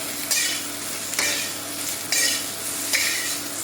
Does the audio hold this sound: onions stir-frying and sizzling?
yes